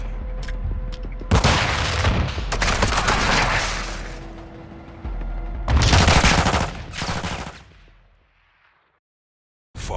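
Gunfire rains down on a gate in Call of Duty: Modern Warfare II, loud bursts of rapid shots and booming impacts in several volleys that fade to quiet before one more burst starts.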